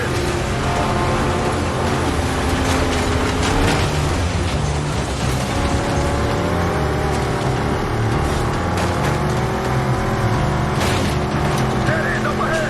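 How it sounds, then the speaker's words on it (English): A train rolls along in the video game Battlefield 6, a dense, continuous engine roar and rumble with shifting tones, loud and steady throughout, mixed with other game sounds. "There's the train!"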